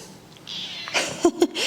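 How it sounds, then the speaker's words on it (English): A cat close by gives two short meows in quick succession over quiet room noise. "I should put the microphone up to her meow"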